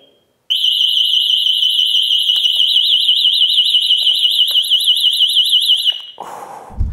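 Blaupunkt SA 2700 GSM alarm siren blaring loud and close: a piercing, rapidly warbling electronic tone starts abruptly and holds steady for about five seconds, then cuts off, followed by a brief low thump.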